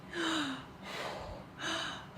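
A voice imitates the gasping breath of breaststroke swimming, with two sharp, loud intakes of air separated by a softer breathy exhale, close and dry with no other sound.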